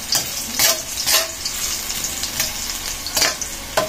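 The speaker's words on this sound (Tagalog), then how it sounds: "At siyempre, atin munang hahaluin ng konti." Food frying in oil in a pan as it is stirred, with a constant sizzle broken by several sharp scraping strokes in an uneven rhythm, close up and with no talk.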